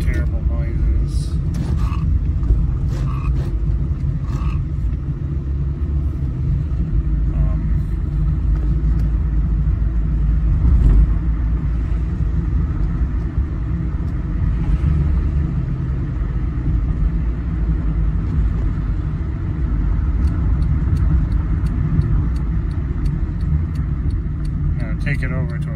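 Steady low engine rumble and road noise from inside a moving 2013 Honda Fit after a snapped CV shaft replacement, continuous throughout with faint creaks and mechanical sounds.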